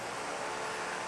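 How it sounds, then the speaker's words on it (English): A neighbor's power drill runs in a steady, droning mechanical whir throughout, without pause, heard from a kitchen. "Again, we apologize for the drilling."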